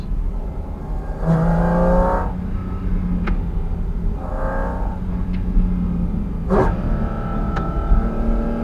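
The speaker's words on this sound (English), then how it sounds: "And downshifting just for the hell of it." A Porsche Cayman GT4 RS engine close by on an alpine mountain pass, droning steadily and then rising in pitch, with sharp throttle blips and several quick downshifts, each a brief rev flare.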